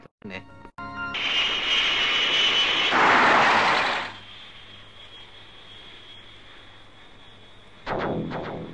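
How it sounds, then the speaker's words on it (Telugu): A loud jet roar from a landing airplane swells for a few seconds, then drops away to a low, steady engine hum, with a brief burst of noise near the end. "ఇప్పుడే ఒక ఫ్లైట్ ల్యాండ్ అయింది"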